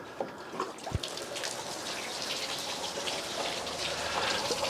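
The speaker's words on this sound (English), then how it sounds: "turn the hose on" Water from a garden hose rushing through pipes on a VW Golf mk2/mk3 oil cooler, a steady soft hiss and splash close by with a few drips.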